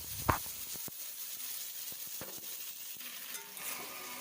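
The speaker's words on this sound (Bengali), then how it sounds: "পেস্টটি দিয়ে ভালো মতন নাড়াচাড়া করে কষিয়ে নেব একটু।" Tomato and spice paste sautéed in a pan for an eggplant and pabda fish curry gives a soft, steady sizzle, broken by a sharp spoon clack near the start and a few light scraping stirs.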